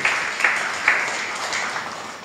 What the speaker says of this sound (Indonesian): Yang setuju, yang percaya boleh berikan tepuk tangan yang meriah buat Tuhan Yesus